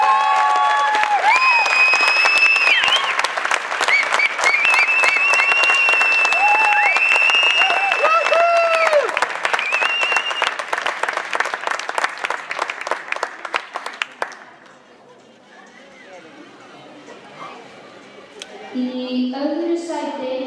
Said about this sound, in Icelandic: Gefum við gott klapp.